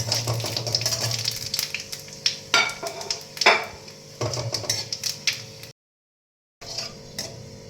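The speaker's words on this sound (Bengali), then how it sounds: "তেলটা গরমও হয়ে গেছে দেখুন এবার পাঁচ ফোড়নটা" Panch phoron spices fry in hot oil in a wok, a close, bright sizzle broken by stirring scrapes and utensil clinks, with a brief dead-silent gap near the end.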